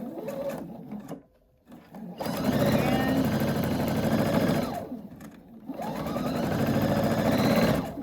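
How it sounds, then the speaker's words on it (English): A sewing machine stitches a quarter inch seam on a quilt block in two long steady runs, loud and close, with a short pause between them. "Sewing our 1/4 inch seam allowance"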